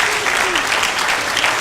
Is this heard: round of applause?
yes